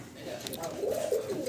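An Indian kagji pigeon gives a single short, throaty coo close by, rising and rolling over about a second and a half.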